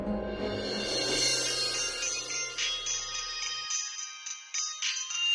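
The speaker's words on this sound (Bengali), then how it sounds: "বাড়ি থেকে ফোন।" A phone rings with an incoming call from home, a bright repeating electronic ringtone that plays alone, while low background sound drops away partway through.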